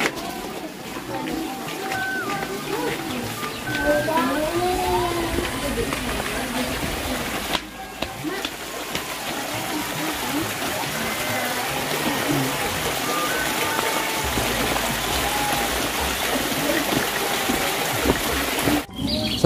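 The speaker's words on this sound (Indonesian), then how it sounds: "di pinggir rumahnya teh air mengalir sahabat" Water flows in a stream beside a house on a mountain slope, a steady rushing and trickling near the listener, with birds calling and someone talking over it.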